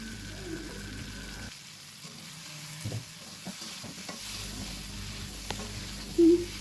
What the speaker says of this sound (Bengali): এখন মশলাটা খুব ভালোভাবে কষিয়ে নেব।